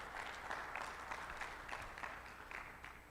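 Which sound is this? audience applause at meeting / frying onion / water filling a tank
audience applause at meeting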